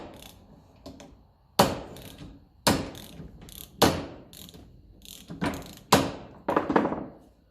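A wrench ratchets a nut loose on a 1954 Ferguson TEF diesel tractor, giving sharp close metallic clicks and thunks in about six separate bursts with short quiet gaps between them.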